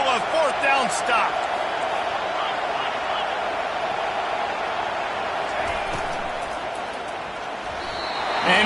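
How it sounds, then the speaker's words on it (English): Loud stadium crowd at a football game roaring continuously as the defense tries for a 4th down stop, a steady wall of cheering with a few sharp thuds near the start. "This crowd busting the decibel meter and trying to will a 4th down stop."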